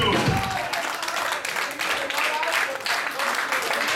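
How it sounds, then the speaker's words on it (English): A small concert audience at a metal show claps and cheers, a broad continuous wash of applause at moderate volume with a few shouts mixed in. "So clap your fucking hands for all the bands I played tonight."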